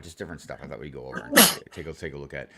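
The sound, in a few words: sneeze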